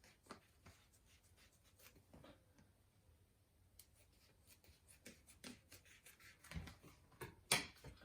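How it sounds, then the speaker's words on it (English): Scissors snip through paper to cut out a long triangle shape, a quiet series of short cuts and rustles at close range, with brief pauses as the paper is handled. "I'm carefully going to cut it out."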